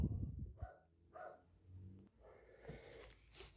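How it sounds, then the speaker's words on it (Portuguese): Pet dog barking indoors, a few faint, distant barks and snorts spread across the moment, with no talk. "meu cachorro estava latindo pra caramba"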